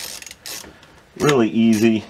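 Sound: ratchet loosening 10 mm battery terminal nut on Audi Q7

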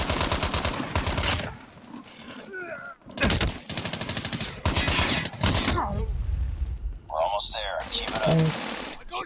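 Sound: gunfire from the video game Call of Duty Mobile

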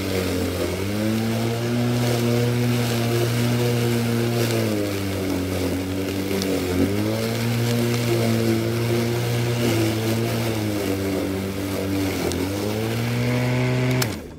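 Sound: Greenworks 40V 16-inch battery lawn mower mulching

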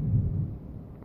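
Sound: thunder

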